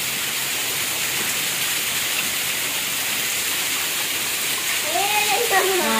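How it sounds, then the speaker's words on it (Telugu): Heavy monsoon rain pours in Kakinada, a dense, steady hiss of water cascading like a waterfall close by, with a voice briefly audible near the end. "వర్షం పెరిగిపోయింది. వాటర్ ఫాల్స్, మా ఇంట్లో వాటర్ ఫాల్స్."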